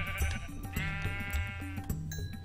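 Sheep in the PS4 edition of Minecraft let out a couple of clear, wavering bleats up close, layered over soft in-game tones and background sound.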